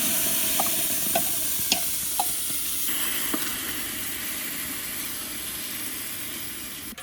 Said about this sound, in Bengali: এবার দিয়ে দিচ্ছি ভেজে রাখা ডাল।